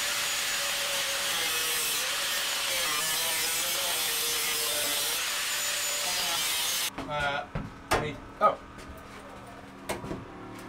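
A tool cutting through a metal roof bar inside a Mercedes Sprinter van conversion, with a loud continuous grinding rasp that stops abruptly, followed by scattered knocks and clatter.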